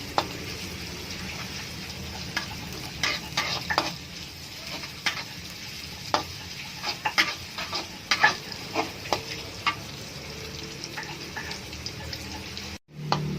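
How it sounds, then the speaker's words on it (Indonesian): Oil sizzles steadily as shallots fry, with intermittent stirring clicks and scrapes scattered throughout, fairly close, no voices. "Sekarang kita goreng bawang merahnya ya."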